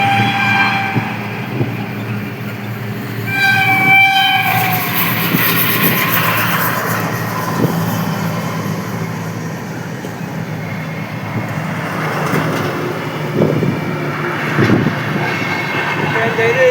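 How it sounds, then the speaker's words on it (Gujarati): A passing passenger train running from Mehsana to Delhi rumbles steadily nearby, with a few short horn toots early on and wheel clatter throughout. "દિલ્હી માટે દિલ્હી જાય છે આ ટ્રેન, મહેસાણાથી દિલ્હી"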